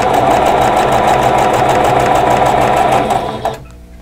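A sewing machine runs at a fast, even, motor-driven clatter while chain piecing scrap quilt blocks, then winds down and stops near the end.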